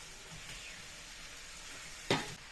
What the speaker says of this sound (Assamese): আলুটো অলপ সময় ভাজি ল'ম মছলাৰ লগত